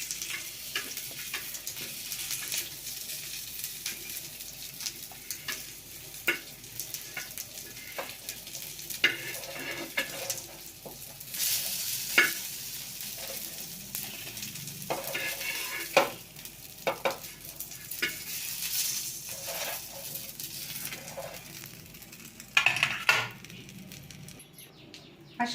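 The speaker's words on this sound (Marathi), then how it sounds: "अशाच पद्धतीने मी हे राहिलेले पीस याच्यात घोळून तळून घेते" Pieces of fish fry in hot oil with a soft, constant crackling sizzle. Scattered louder pops and stirring clatters break through, and the sound stays faint and close throughout.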